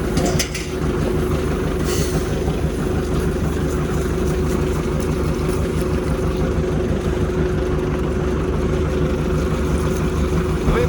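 A tractor engine, an MTZ pulling a fertilizer sprayer, rumbles steadily nearby, a continuous low mechanical drone with rattling, no pauses or talk.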